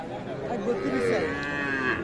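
Young bull calves at a cattle market in Aftabganj lowing, one drawn-out, close moo with a rising, wavering pitch, loud over faint market background.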